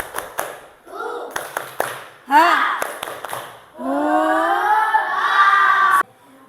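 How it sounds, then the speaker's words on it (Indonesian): Children in a primary school classroom clap a rhythmic tepuk semangat spirit chant, sharp group claps in patterned bursts between loud shouted chanted phrases, ending in a long sustained cheer, close and lively. "Tepuk semangat."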